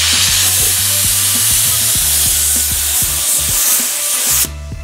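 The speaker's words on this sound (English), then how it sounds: "Another coat of clear on here" A continuous close hiss of a spray gun laying down clear coat over red pearl car paint, with a faint rhythmic ticking underneath, cutting off sharply near the end.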